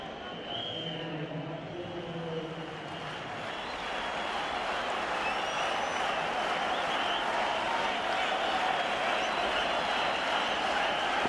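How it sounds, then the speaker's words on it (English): A large cricket crowd at a World Cup semi-final between Australia and Sri Lanka applauds and cheers a wicket, a dense distant roar of clapping that builds and holds steady, with voices faintly underneath. "Crowd on their feet."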